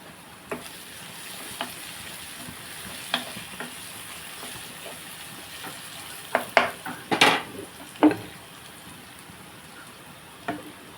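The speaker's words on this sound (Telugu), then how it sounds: "ఉల్లిపాయ బాగా మగ్గిపోయింది కదా మనం కారం వేసుకుందాం" Onions frying in a pan for an egg curry, with a steady sizzle and several sharp scrapes and clatters from stirring, close by and without speech.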